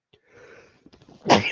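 A person sneezes once, loud and close, after a short breathy intake, with no talking around it.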